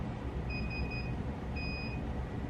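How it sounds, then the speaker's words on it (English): A Sur Ron Light Bee electric bike emits high electronic beeps in two short bursts, the first a pair of tones and the second a single tone, over a low background rumble with no talking. "Now the bike is making a beeping sound."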